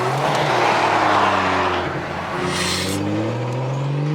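At a South Florida car meet, a car's engine roars and rises in pitch while its tires spin and squeal, with a loud, sustained revving that swells and dips over a few seconds.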